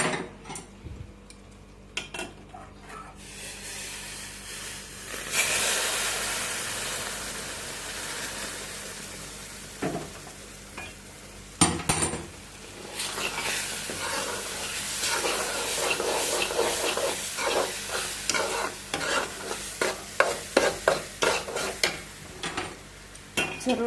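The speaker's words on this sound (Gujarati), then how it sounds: "આપણે આવી રીતે હલાવતું રહેવાનું છે આપણે" Mung dal halwa (Kathiyawadi moong shiro) stirred in a pan with milk being added, steady scraping and stirring over a soft sizzle and hiss, with occasional spoon knocks against the pan, close and continuous without talk.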